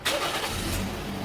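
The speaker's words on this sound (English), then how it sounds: "So I start the car, right?" A Toyota Yaris engine starts with a sharp onset and then settles into a steady, loud idle hum close by, with nobody speaking over it.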